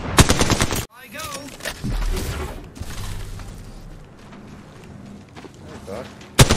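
Automatic gunfire in the video game Apex Legends, with rapid loud bursts at the start and end and scattered shots and impacts in between, while a player's voice talks over the action.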